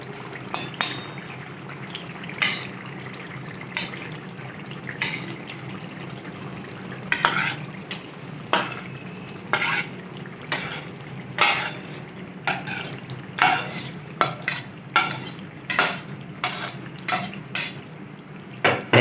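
Boiled urad dal, about 250 grams, is stirred in a pan for restaurant-style fried dal mash, with steady rhythmic scrapes of the spoon over a low frying hiss, close and clear with no talk.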